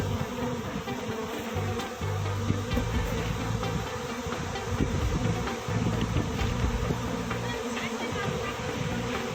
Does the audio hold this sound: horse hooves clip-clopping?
no